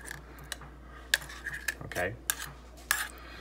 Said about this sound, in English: Lift the lid with the spoon.